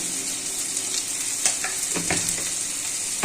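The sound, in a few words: tomatoes and sugar frying in a pan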